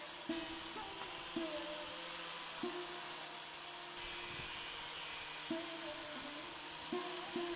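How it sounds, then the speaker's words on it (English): A rotary sanding nozzle fitted with 120 grit sandpaper polishes the surface of an old rusty axe head, giving a steady abrasive hiss and whine punctuated by repeated rising motor pitch surges. "the surface of the axe is polished with a nozzle with 120 grit sandpaper"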